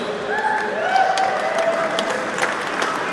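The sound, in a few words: audience applause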